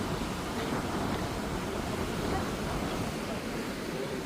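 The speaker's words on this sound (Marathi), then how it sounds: "आणि आपलं समुद्र" Sea waves at the shore by the Kunkeshwar temple, a continuous, even wash of surf with some wind, heard alone without talk.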